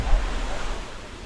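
Camugao Falls waterfall in San Isidro, Bohol, roars as a steady, close rush of falling water, broadband and continuous with no other clear sounds.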